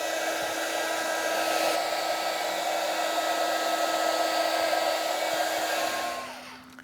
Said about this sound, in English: let me just speed dry this for you, because otherwise it's going to stick like you know what